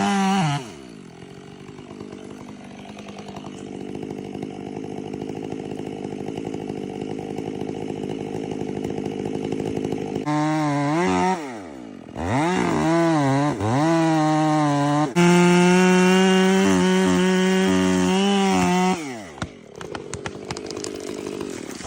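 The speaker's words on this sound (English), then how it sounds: "workers use a chainsaw with a long bar to trim large branches, then switch to cutting straight into the tree trunk." A long-bar chainsaw cuts into a large tree trunk during tree felling, its engine droning steadily and then revving up and down in loud, close bursts with brief dips between cuts.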